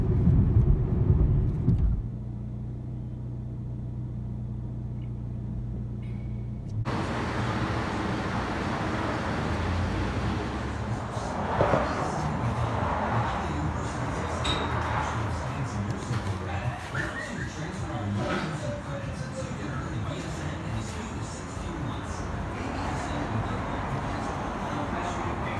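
Cabin of a V6 Dodge Charger fitted with a new Pypes performance exhaust: a steady low engine and exhaust drone with road rumble over a long drive, a sharp change in sound early on and traffic noise around.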